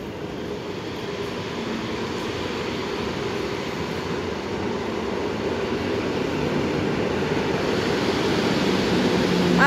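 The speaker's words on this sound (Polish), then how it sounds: "I wjeżdża pociąg z Częstochowy do Łodzi Fabrycznej, prowadzony zmodernizowanym" A modernized EN57 electric multiple unit arrives at Łódź Widzew station on a Częstochowa to Łódź Fabryczna service, its broad rumbling roar building steadily louder as it draws closer, with no talk.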